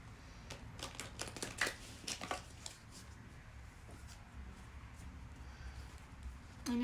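A deck of tarot cards is shuffled up close and fairly quietly, with a run of quick riffling flutters and soft taps over several seconds.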